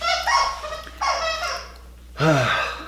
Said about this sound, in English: my dog wants to play